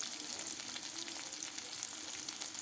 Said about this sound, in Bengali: এবার শাকের ভাজি করার জন্য পেঁয়াজ কুচি, শুকনো মরিচ কুচি আর কাঁচামরিচ কুচি দিয়ে দিল